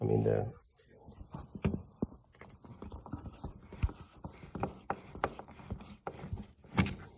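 A T20 screw being unscrewed from a 2022 BMW M8 steering wheel by hand, a series of small close clicks and ratcheting ticks, with a person talking softly over part of it.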